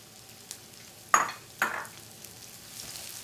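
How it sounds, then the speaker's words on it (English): Minced garlic sautés in a pan with a low, quiet sizzle, broken by two sharp utensil scrapes and stirs near the middle. "And we're just going to continue to saute those together."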